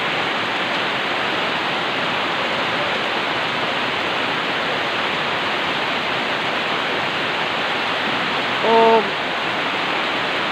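Heavy rain pours down steadily in a dense, loud, unbroken hiss close by, with a brief faint voice-like tone near the end.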